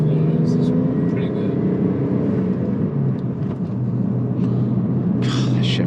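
A tuned sports car engine, set among Hong Kong tuner cars, drones loudly and steadily under hard acceleration from inside the cabin, while people talk over it.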